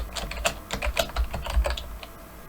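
Typing on a computer keyboard: a quick, irregular run of close, crisp key clicks with a few heavier thumps, steady and dry, no voices.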